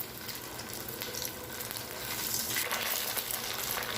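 Paneer pieces shallow frying in hot oil, a close, steady sizzle and crackle that grows slightly louder partway through, with no talking.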